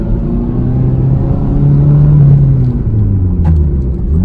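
Toyota MR2 engine pulling hard in second gear, a steady loud rumble with rising tone as revs build, continuous and close from inside the car.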